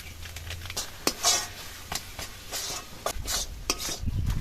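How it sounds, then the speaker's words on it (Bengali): A spoon stirs Amul milk powder and ground cardamom into melted sugar in a pan for cauliflower sandesh, giving steady scraping and clinking strokes with a soft sizzle beneath, close and moderately loud. "পুরো দুধ আর এলাচ দানার গুঁড়োটা দিয়ে কিন্তু খুব ভালো করে এইভাবে মিশিয়ে নিতে হবে"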